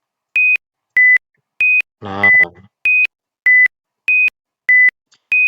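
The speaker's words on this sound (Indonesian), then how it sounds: "Jadi alarm akan selalu nyala" An alarm from a Python eye-fatigue detection program beeps in a steady, evenly spaced series of about nine loud electronic tones, and someone briefly speaks between two of them.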